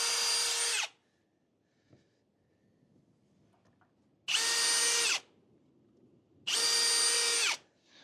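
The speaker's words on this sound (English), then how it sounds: "let's go drill some holes for that to mount right onto there" A power drill bores holes into wood for mounting a Vevor 80 ft retractable air hose reel, heard as three loud, close whirring bursts of about a second each, separated by quiet gaps.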